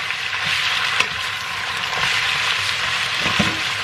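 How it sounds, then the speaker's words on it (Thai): Rice noodles for pad thai with homemade sauce are stir-fried in a hot pan, giving a loud, steady sizzle with occasional scraping and tossing clatters of the spatula, close up and without talking. "เดี๋ยวเราผัดให้เส้นมันนุ่มนิดนึงนะทุกคน"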